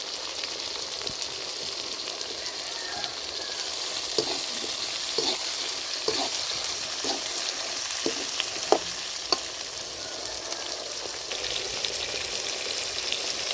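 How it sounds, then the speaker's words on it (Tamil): Onions and tomatoes sauté in a pan for a village-style tamarind curry, a steady broadband sizzle running throughout with a few soft scrapes and taps of stirring scattered across the middle, close and fairly loud with no talking. "வெங்காயம் வதங்கினதுக்கப்புறம் நம்ம தக்காளி போடணும்"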